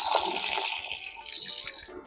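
Water is poured over a mix of mung dal, moong mogar and chana dal set to soak for Jaipur-style posh bade, giving a close, splashing pour that tapers off into silence at the end.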